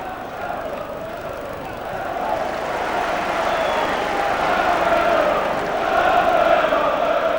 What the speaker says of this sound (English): roar from the crowd at this stage after that blistering start